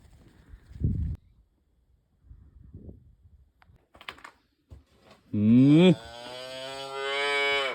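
Cows moo loudly and close by: one long, rising call, then another drawn-out moo, after some scattered quiet shuffling and clicks.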